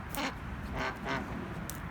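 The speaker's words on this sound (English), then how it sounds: "So there's my two girl ducks." Two domestic female ducks quack in a few raspy bursts close by, in an outdoor pen on a cold day, with low background noise between calls.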